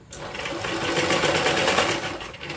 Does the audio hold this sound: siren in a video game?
no